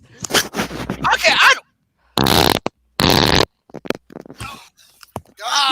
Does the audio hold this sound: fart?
yes